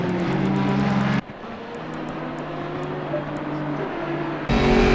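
A silver and green Mercedes-AMG safety car drives a lap in the racing simulator Assetto Corsa Competizione, its engine droning loudly and steadily with sharp shifts in tone as it changes gears.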